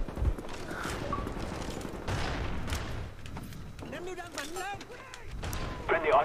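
Bursts of gunfire from a gun in Black Ops ring out in quick volleys amid game effects, fairly quiet and mixed with voices.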